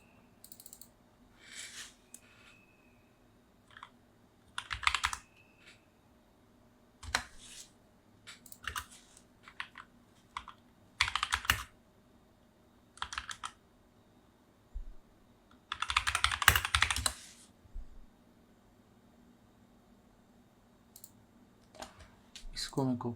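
Bursts of computer keyboard typing, close and fairly quiet, come in short clusters of key clicks separated by pauses, with one longer dense flurry near the end, all over a faint steady hum.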